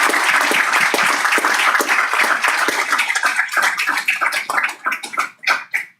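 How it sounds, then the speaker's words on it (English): Audience applause at a school board of education meeting honoring accomplished athletes and students, loud and dense at first, then thinning into scattered claps that fade out. "Can we have another huge round of applause for these"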